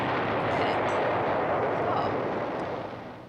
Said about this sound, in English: That's a button for the small explosion.